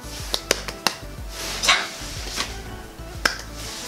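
A small dog growls and gives short sharp barks indoors, several quick close yelps spread across the moment amid household noise.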